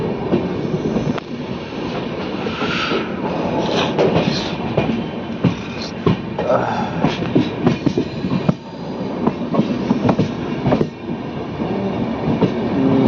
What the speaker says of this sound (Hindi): हमारी ट्रेन जो है ऑलमोस्ट 10 मिनट बिफोर जो है पहुंची है आलमनगर पे, और एक साथ कई ट्रेनें खड़ी है यहाँ पे।